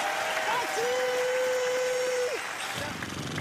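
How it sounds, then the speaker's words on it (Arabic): A television studio audience claps in a dense, sustained burst of applause that fills the whole stretch, with a steady whistling tone running through the middle. "الجمهور صفق الفاتي وما صفقش الريفي"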